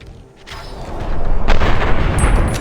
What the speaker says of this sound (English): I dropped one and then was grazed by an enemy bullet, causing my second and third shots to go wide.